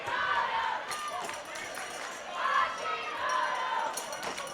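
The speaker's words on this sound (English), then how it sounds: "Hashimoto is what the crowd is chanting there" At a men's dodgeball world championship match between the USA and Canada, an arena crowd chants a player's name in rising and falling waves of massed voices, fairly distant and sustained throughout.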